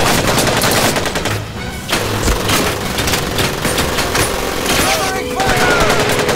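Dense gunfire rattles in a Medal of Honor: Pacific Assault battle at Henderson Field, with rapid machine-gun bursts and overlapping shots that stay loud and continuous. Shouted voices sound under the firing.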